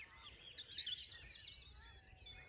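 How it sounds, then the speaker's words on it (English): Faint outdoor birdsong in the Welsh countryside, several small birds chirping and trilling at a distance over a low, steady background rumble. "Listen to those birds and those sheep."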